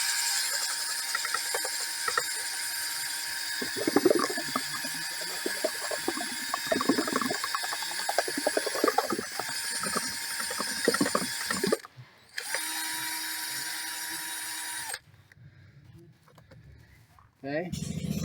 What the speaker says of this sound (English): this is not a high-speed drill. This is a low-speed drill